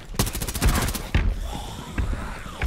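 Gunfire in Rainbow Six Siege Outbreak mode: a rapid automatic burst of close, loud shots followed by a few separate sharp bangs, with game sounds and a brief voice mixed in.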